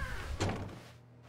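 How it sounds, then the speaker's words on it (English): A single soft thunk of a door opening in The Stanley Parable, near and brief, over a low ambient hum. "When Stanley came to a set of 2 open doors, he entered the door on his left."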